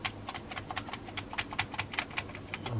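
Keys clicking on a Commodore Plus 4 home computer keyboard, a quick irregular run of sharp, close taps with no talking.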